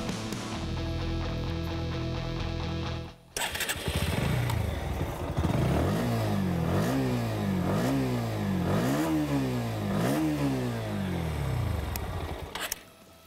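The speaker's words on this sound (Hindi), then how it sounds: "दोनों मोटरसाइकिल्स का आपको एग्जॉस्ट सुनाता हूँ वन बाय वन" A Bajaj Pulsar NS160 motorcycle exhaust heard up close: after a brief pause the engine is blipped repeatedly, producing a series of rhythmic rising and falling revs over a steady idle.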